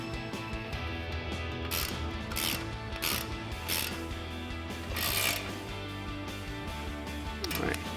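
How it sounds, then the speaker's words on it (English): A 15mm ratchet tightening the exhaust tip clamp on a 2019-2023 RAM 1500 Corsa sport dual exhaust, giving repeated bursts of close, steady clicking throughout. "take our 15mm ratchet and tighten this guy down"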